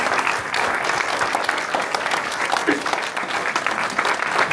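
Audience applause at an exhibition opening on the Phoney War to the Liberation, a loud, close, continuous crowd clapping with crisp individual claps standing out, lasting the whole stretch.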